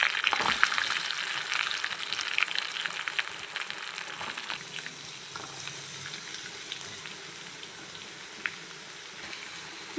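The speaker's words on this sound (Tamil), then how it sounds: "இப்போ இதை நல்லா வதக்கிக்கலாம்." Onions sizzle steadily in hot oil with curry leaves and four dried chillies, a dense, continuous frying hiss with occasional stirring scrapes throughout.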